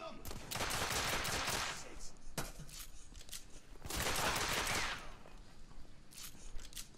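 Gunfire in The Order: 1886, heard as two long bursts of rapid automatic shots with lighter scattered firing between and after them, loud and close, with no one speaking.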